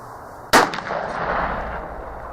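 A single loud muzzleloader shot from a TC Impact rifle loaded with a 100-grain powder charge, a sharp blast followed by a long rolling echo outdoors.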